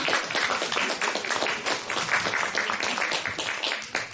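Dense, steady applause from an audience at a 2010 award ceremony in Nová Baňa, many hands clapping continuously and fairly close for about four seconds with no pauses.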